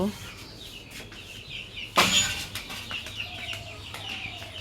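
Chickens clucking around as they are fed at a Bangladeshi home, a short burst of wing flapping or scattering in the middle, with soft clucks and calls continuing afterward.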